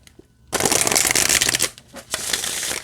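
Oracle cards riffle-shuffled by hand, a quiet pause followed by a loud, dense crisp rush of flicking card edges that briefly dips and then resumes, close and alone.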